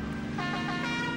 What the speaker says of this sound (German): Denn meine Hupe, die finde ich toll.